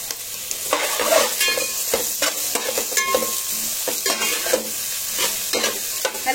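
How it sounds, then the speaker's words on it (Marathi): Capsicum and cabbage stir-fried over a high flame, a continuous bright sizzle with frequent quick scraping stirs and clacks of a spatula against the pan, close and fairly loud. "आता मी शिमला मिरची आणि कोबी शिजवून घेते."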